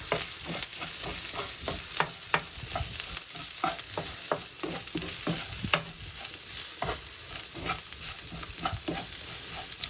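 Cumin, turmeric, paprika and garam masala frying in a curry pan, a steady close sizzle broken by frequent scraping stirs and clinks of a spoon against the pan.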